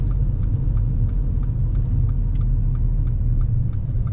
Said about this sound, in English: Listening to the engine, thank you.